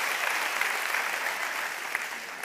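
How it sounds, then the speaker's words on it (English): A church congregation claps together during a lively worship service, a dense, steady wash of applause from many hands filling the room without a break. "Come on, church, let's clap."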